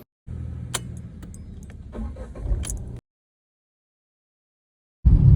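A Tata Punch car being driven, engine and road noise steady and close for about three seconds, then a sudden cut to silence before a loud rumble returns near the end.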